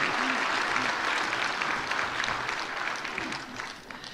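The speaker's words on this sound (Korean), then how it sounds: "박수로 축하해 주시겠습니다" A church congregation breaks into applause, a steady crowd of hands clapping that fades gradually toward the end, with a few faint voices underneath.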